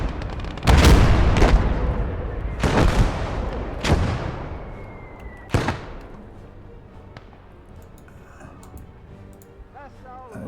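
Mortar fire in the wartime video game Blood Red Snow booms in a series of sharp, loud, close blasts, roughly five in quick succession over the first six seconds, each followed by a decaying rumble, then quieter ambience with faint game noises.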